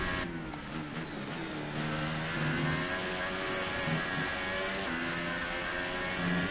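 A Formula One car engine in the racing video game F1 2018 revs hard, its tone repeatedly climbing and dropping in a steady high whine as the car accelerates, with no talking.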